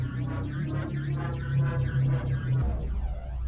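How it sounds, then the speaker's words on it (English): A simple laser weapon on a warship in the From the Depths game fires a rapid run of repeating swooping electronic tones, harsh and continuous, before cutting off abruptly and leaving a low hum. "that simple laser though, that noise is irritating"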